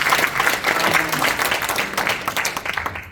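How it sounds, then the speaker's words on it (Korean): Warm applause from a Christian prayer-breakfast congregation in a National Assembly meeting room, steady dense clapping throughout, fairly close and loud, with a few faint voices mixed in. "여러분 뜨거운 박수."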